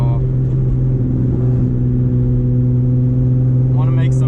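A Nissan 350Z with a full Tomei exhaust cruises in third gear at about 2500 rpm, giving a loud, steady, deep droning hum that holds even throughout, with a brief faint higher sound near the end.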